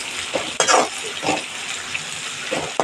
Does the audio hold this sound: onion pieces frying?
yes